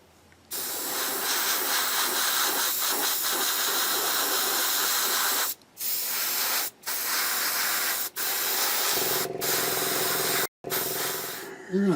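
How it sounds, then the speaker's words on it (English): Airbrush sprays paint onto a Bandai 1/12 scale Boba Fett model kit in steady hissing bursts, cut by several short pauses between passes. "But yeah, I genuinely love this airbrush."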